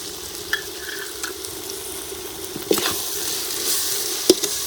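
Ginger garlic paste fries with onions and green chillies in a pan for a chicken leg gravy, sizzling evenly while a spoon stirs it with a few soft scrapes and one sharp knock near the end.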